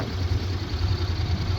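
Honda NC750 motorcycle engine running at a steady idle, a continuous low throbbing rumble heard up close with no voices.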